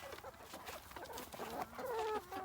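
Free-range chickens on a two-acre homestead cluck and call in short bursts, fairly close, with a few brief higher tonal cries rising near the end and no talk.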